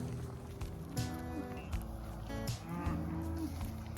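Cattle moo several times at moderate distance, low drawn-out calls with rising tones, spread across the clip over faint outdoor background noise.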